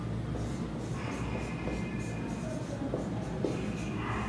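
A pen scratches steadily across paper while a maths solution is written out, a faint, continuous close-up scribble with small strokes and pauses.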